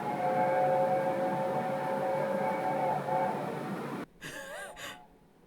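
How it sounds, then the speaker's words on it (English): A long wailing tone like a World War II style air raid siren sounds steadily for about four seconds, loud and sustained, then cuts off and is followed by a brief voice. "Why did I think that was like a World War II siren going off?"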